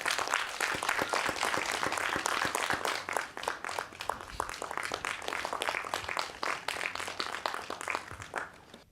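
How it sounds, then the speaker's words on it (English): Audience at a film festival costume-design masterclass applauding guests as they are escorted to the stage: dense, crisp clapping from many hands, loud at first and gradually thinning and trailing off toward the end. "A round of applause, please."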